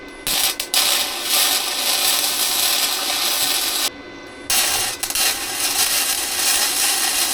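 Two pieces of metal are welded together during a beginner's car repair job, giving a close, loud, steady crackling buzz that stops briefly a few times before starting again, with no talking.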